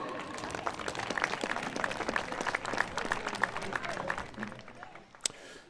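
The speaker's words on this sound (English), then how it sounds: "Please give a round of applause for these two athletes." Senior-night crowd applause at a high school track and field meet, Corry Beavers versus Eisenhower Knights, a dense, steady patter of many hands clapping that fades slightly near the end, with a sharp louder clap just before it stops.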